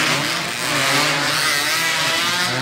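A motorcycle engine roars and revs loudly in a short burst, like a bike racing past at close range during a motorcycle speed race in Río Negro, Santander.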